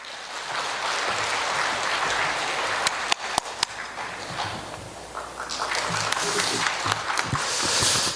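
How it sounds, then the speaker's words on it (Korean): Audience applause at a Daegu forum as a former National Assembly member is welcomed to the podium, a steady broadband clapping wash that runs the full length and swells toward the end, with a few sharp louder claps. "박수로 맞아주시겠습니다"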